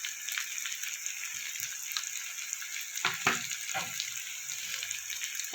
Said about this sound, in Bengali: ভাজা জিরের গুঁড়ো দিয়ে আমি সব কিছুকে ভালো করে কষিয়ে নেব